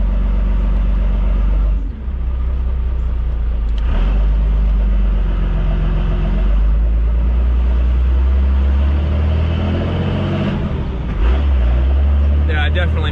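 A third-generation truck with a swapped 12-valve diesel engine running while driving, a loud, steady low rumble from inside the cab with shifting engine tone and brief dips, no clear talking.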